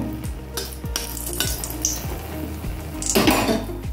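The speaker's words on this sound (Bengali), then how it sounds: "ফোড়নের জন্য তেল দিয়েছি, আর দিয়ে দেব কয়েকটা শুকনো লঙ্কা দিয়ে দেবো, 3-4টে।" Three or four dried red chilies fry in oil for tempering, crackling softly in the pan while a metal spoon scrapes and clinks against it in a repeated stirring rhythm.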